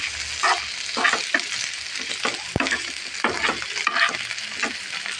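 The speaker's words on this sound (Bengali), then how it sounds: "এখন একটু ভেজে নেব বাজা বাজা করে নেব" Boiled bottle gourd peel frying in a pan makes a continuous crackling sizzle, broken by repeated scraping stirs and one sharp knock of the utensil against the pan.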